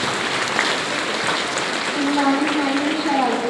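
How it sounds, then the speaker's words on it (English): A room of school students applauds a class topper, a dense, even wash of clapping that runs throughout, with a faint tone and a voice in the background near the end. "Please clap for her."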